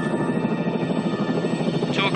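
Huey helicopter in flight, its steady rotor and engine drone filling the clip continuously at close, loud level with no talk over it.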